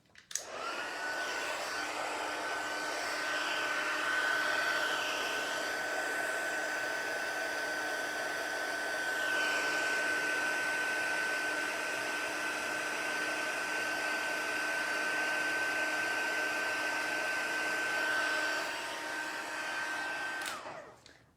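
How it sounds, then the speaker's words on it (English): Heat embossing tool blowing hot air over embossing powder on specialty vellum, a loud continuous fan-like roar with a steady high whine, holding for about twenty seconds before cutting off. "So I'll just heat emboss this one."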